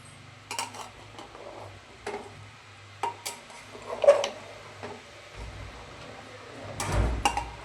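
Biryani stirred in a pot over a slow flame, with sparse metallic clinks and scrapes of a spoon against the pot separated by quiet pauses and a low hum beneath.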